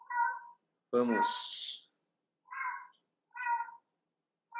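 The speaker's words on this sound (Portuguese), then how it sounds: "É o seu gato" A cat meows several times, short distinct calls separated by pauses with one longer, rising cry, heard close against silence, while a person speaks briefly.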